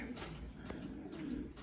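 A racing pigeon coos softly in a brief, low, throaty burst, close by against steady background noise.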